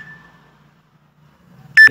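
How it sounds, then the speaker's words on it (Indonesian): A phone timer alarm goes off at the very end, a sudden loud burst of bright electronic beeping after near silence. "tanda alarm yang berbunyi mengingatkan kita bahwa aktivitas kita langsung berbunyi"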